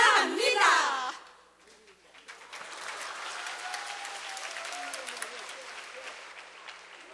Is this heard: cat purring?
no